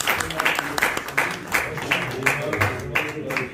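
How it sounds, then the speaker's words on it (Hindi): Audience at an Urdu poetry mushaira in London claps in regular, pulsing bursts, a moderately loud rhythmic applause with a voice speaking underneath. "आपकी भरपूर तालियों में आज के मेहमान खुसूसी जनाब मोहतरम सलीम शिराजी साहब"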